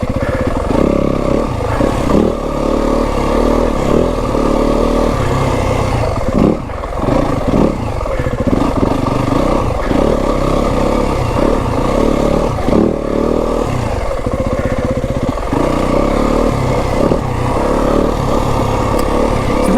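A Yamaha WR 250F four-stroke dirt bike rides slowly along rocky single track in Kelly Canyon, its engine loud and close, revving on and off in uneven bursts with clattering over rocks.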